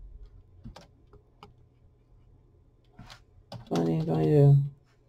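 A computer keyboard is tapped in sparse, hesitant clicks, a few keystrokes spaced out in a quiet room, followed by a person speaking near the end.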